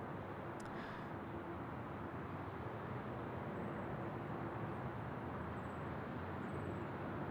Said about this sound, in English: Next to go, it's A330 and should be rolling now, runway 34 left